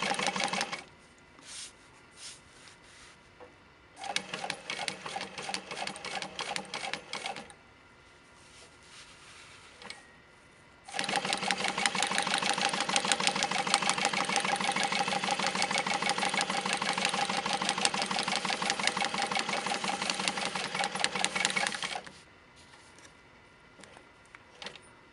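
A Juki DU-1181N industrial walking foot sewing machine stitching fabric, its rapid mechanical chatter running in short bursts, then a long steady stretch of about ten seconds before stopping, close and clear with no talk.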